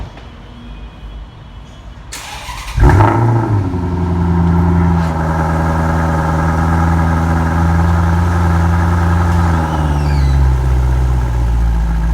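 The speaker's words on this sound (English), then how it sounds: "have a listen to how this car sounds in a cold starter" Maserati GranTurismo S MC engine catching on a cold start with a sharp bark, then settling into a loud, steady, deep exhaust idle that holds for about ten seconds and eases slightly near the end.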